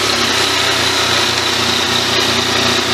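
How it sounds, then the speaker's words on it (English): A Yamaha MT-09 Tracer motorcycle engine runs in neutral, giving a loud, steady, even idle drone throughout with no talking. "So make sure you're in neutral, pull the clutch in, start the engine."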